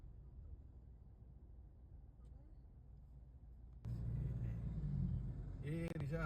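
Car travelling on the Salem–Kochi–Kanyakumari highway in Kerala, a low steady road rumble from inside the vehicle that grows louder and busier partway through, with faint voices underneath.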